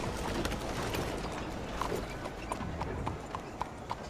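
Horse hooves clip-clopping in Red Dead Redemption 2, a steady rhythmic trot of sharp knocks over a busy game soundscape, with faint talk in the background.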